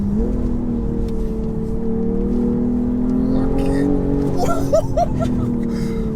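A tuned 450 bhp BMW M240i xDrive engine drones steadily from inside the cabin with a rising turbo intake roar, and a voice speaks briefly over it near the end.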